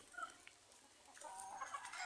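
Chickens cluck softly nearby, a few scattered clucks and murmurs that grow into a busier chorus toward the end.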